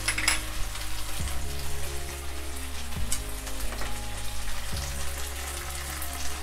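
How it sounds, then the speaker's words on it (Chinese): Shallots and garlic paste fry in hot oil in a home kitchen, a continuous close sizzle and crackle with a few soft clunks of the pan or utensil, and no one speaking. "咁我而家就爆香咗。"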